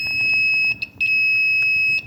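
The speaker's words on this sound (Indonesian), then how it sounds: "kita menggunakan nada ataupun dengingan dari suara buzzer tersebut." A shrill, steady electronic buzzer tone from an analog multimeter's continuity test sounds up close, cutting out briefly a few times before resuming, with faint handling noise underneath.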